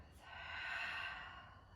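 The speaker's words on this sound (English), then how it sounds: "Exhale breath." A single long, soft exhale of breath during a vinyasa yoga class, breathy and close, rising and fading over nearly two seconds.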